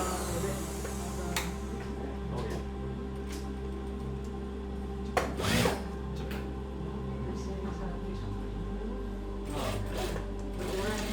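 An industrial sewing machine in a garment factory stitches waistbands and tags onto pants, a steady mechanical hum and whir running throughout with occasional louder clatters over workshop background noise.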